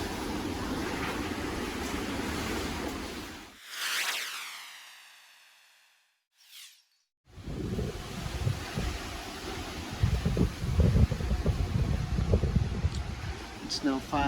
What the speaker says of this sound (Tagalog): grabe ka kusog ang hangin